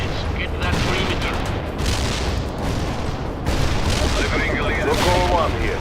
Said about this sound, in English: APC is returning fire.